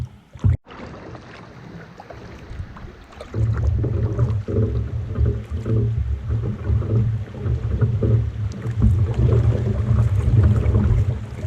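A canoe paddled on a river in Algonquin: a sharp knock early on, then a broad, steady rushing wash of water with irregular splashing strokes, close and fairly loud.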